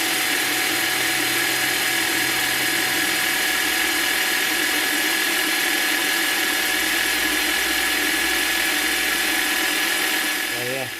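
Parkside/Scheppach DP60 electronic bench drill boring into maple, a loud, steady motor whine and broadband grinding roar held close throughout, with a faint clunk at the end.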